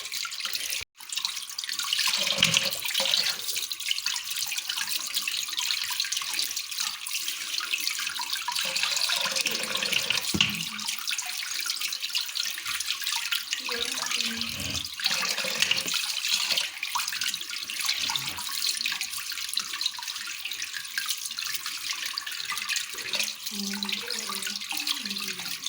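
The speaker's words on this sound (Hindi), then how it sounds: "इसी आटे वाले पानी के अंदर इसे मल मल के देखिए इसे धोते जाना है।" Running tap water splashes steadily into a sink as fish pieces are rubbed and washed in flour water, with small sloshes and clinks from handling breaking up the continuous flow.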